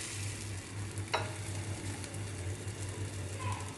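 Rava dosa batter spread thin on a hot pan gives a steady, soft sizzle and hiss close by, with one brief scrape partway through and no talking.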